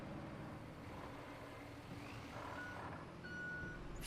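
A vehicle parking in the video game Roadcraft gives off steady reversing beeps over a low engine rumble, and the engine noise swells near the end.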